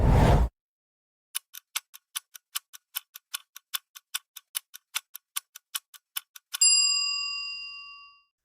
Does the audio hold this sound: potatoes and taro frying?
no